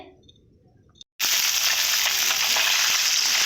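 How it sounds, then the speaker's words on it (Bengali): Punti fish hit hot oil with a sudden loud burst of frying that holds steady as a dense, close, crackling sizzle, after a second of quiet kitchen sound. "মাছগুলো ভালো করে ভেজে নেবো"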